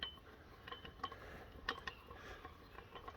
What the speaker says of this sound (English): And the final winding now that all the washers are put in.